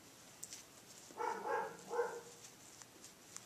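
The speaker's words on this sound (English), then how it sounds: "You can hear Biscuit barking in the background" A dog barks a few times in quick succession in a quiet home, faint and distant, the short burst standing alone against a hushed background.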